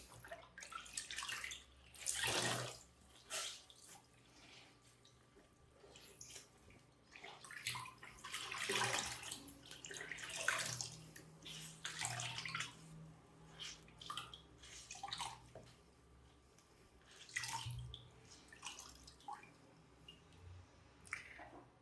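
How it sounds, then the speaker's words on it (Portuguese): Wet fabric is wrung out by hand over a basin of water, with repeated squelching squeezes and splashing trickles of water coming in irregular bursts, close and fairly quiet. "Molhei bem meu tecido. E agora eu já posso espremer ele."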